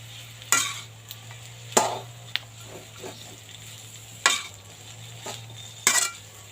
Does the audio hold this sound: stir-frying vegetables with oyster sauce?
yes